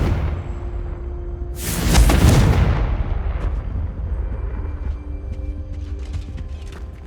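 A Confringo spell explosion in the video game Hogwarts Legacy: a single loud, broad booming blast that bursts in after a quiet start, then a long low rumbling decay with a few faint crackles trailing off.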